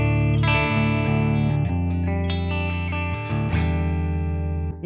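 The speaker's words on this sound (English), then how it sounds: "Okay, so this is the clean channel." Electric guitar through the clean channel of a Jeff Loomis Devil's Triad pedal, ringing chords with a chorused, slightly shimmering sustain, changing every second or so, loud and close with no talk.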